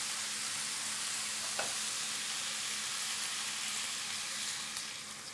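Trout cooks in a pan as cream is stirred in for a trout à la lorraine dish, producing a steady, close, even frying sizzle with a faint scrape partway through and no voices.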